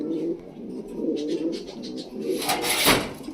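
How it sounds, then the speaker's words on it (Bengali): Fantail pigeons coo in soft, low, repeated throaty phrases close by, ending in a brief louder rustling burst like fluttering wings. "আর এইখানে আমার ফ্যান্টেল বার্ডলেস, দেখেন এরাও খুব তাড়াতাড়ি ডিম দেবে।"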